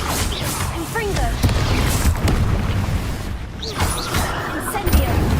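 Confringo spell blasts in the video game Hogwarts Legacy boom repeatedly amid crashing combat noise, loud and dense throughout with brief whooshing effects layered over a constant low rumble.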